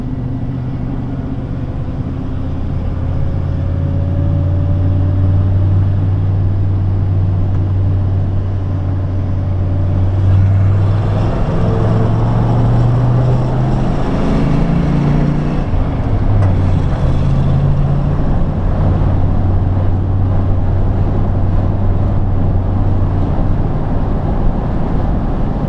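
A pickup truck with 4.10 gears and an aftermarket muffler cruising on the interstate: a steady, smooth low engine drone with road rumble throughout, the pitch shifting slightly midway, with no talking.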